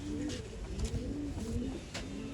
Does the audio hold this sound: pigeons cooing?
yes